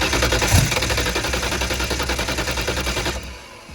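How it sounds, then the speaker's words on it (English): An engine, fed brake cleaner and a little gas, fires in a loud, close, rapid chugging rhythm, then sputters out near the end. "Might need to give it a little bit of gas to get the brake clean in there."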